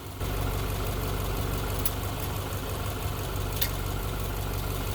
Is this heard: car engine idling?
yes